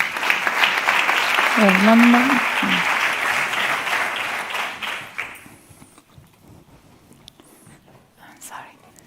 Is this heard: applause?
yes